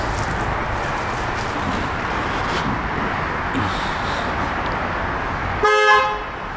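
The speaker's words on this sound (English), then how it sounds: "The horn works" A Tesla Cybertruck sounds its horn in one loud, sharp honk near the end, cutting over a steady background of wind and road rumble.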